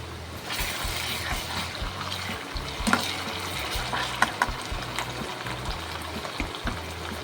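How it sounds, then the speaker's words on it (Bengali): Onion frying in oil with ginger garlic paste, a steady close sizzle with occasional stirring clinks and scrapes and no talk over it. "তেলের মধ্যে পেঁয়াজ দিয়েছি, একটু আদা রসুন পেস্ট দিয়েছি"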